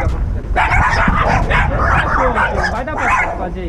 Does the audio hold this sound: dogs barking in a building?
yes